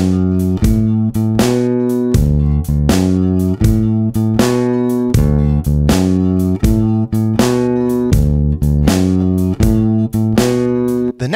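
A bass guitar plays a 12-bar blues turnaround in a shuffle rhythm, the repeated plucked notes steady and loud, with clear gaps between phrases and no voice over it.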